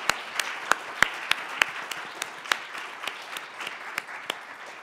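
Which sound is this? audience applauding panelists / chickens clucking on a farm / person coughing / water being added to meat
audience applauding panelists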